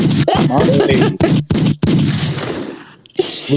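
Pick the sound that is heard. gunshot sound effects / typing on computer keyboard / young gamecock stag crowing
gunshot sound effects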